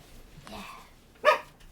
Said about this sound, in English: Sorry, I need to get my dog.